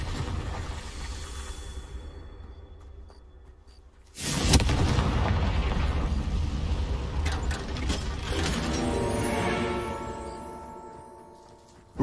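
The Confringo explosive spell in Hogwarts Legacy erupts in one sudden heavy blast, followed by a long rumbling, crackling tail that gradually dies away, with a quieter ambient hum before the burst.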